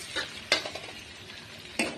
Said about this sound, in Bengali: উল্টে পাল্টে নেড়ে নেবো